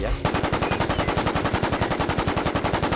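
Rapid automatic gunfire from an M16 A4 rifle in the video game WarZ, a dense, evenly spaced burst of sharp loud shots repeating steadily for several seconds without pause.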